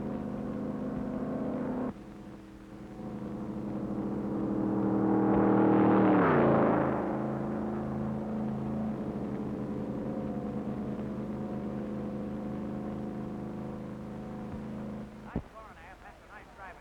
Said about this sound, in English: Guided by the curvature of flares, he roars on at that terrific pace.